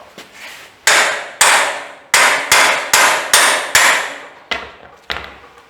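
A hammer strikes the steel of a homemade trailer's axle and crossmembers about ten times in an uneven rhythm, each sharp ringing clang close and loud, with a few lighter taps near the end.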